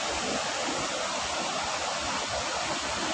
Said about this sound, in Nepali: लपु खोला है, यो लपु खोला